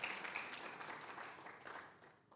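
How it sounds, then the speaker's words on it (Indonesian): Applause from a church congregation during a sermon at GBI Keluarga Kudus, a moderate, steady wash of many hands clapping that slowly thins and fades toward the end. "Kita kasih tepuk tangan dulu untuk karya keselamatan Kristus"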